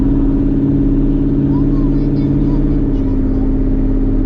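An On3 twin turbo Ford Mustang cruises with a loud, steady low engine drone heard from inside the car, continuous throughout with a voice speaking over it.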